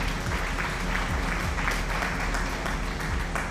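Dense, steady applause from many hands fills the whole stretch, evenly loud and close with no pauses, behind a chill British Columbia livestream.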